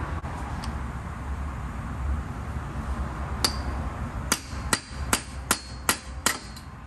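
A dead blow hammer strikes a seized wheel bearing hub on a Subaru Crosstrek, first two spaced hits, then a run of about seven sharp metallic whacks in quick, fairly even rhythm, close and distinct over low background noise.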